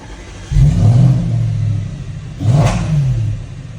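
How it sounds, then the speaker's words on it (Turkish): An Audi RS4 engine starts with a loud close roar, then settles into an idle, which rises into a second brief rev. "Çalıştıralım bir aracımızı."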